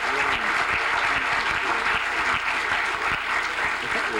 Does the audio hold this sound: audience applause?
yes